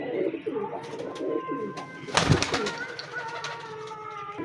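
Teddy pigeons kept as breeding birds, giving soft repeated low coos at close range with a brief burst of wing flapping midway and quiet background noise.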